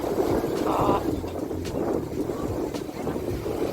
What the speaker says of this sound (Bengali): এই দেখো ঢেউ আসছে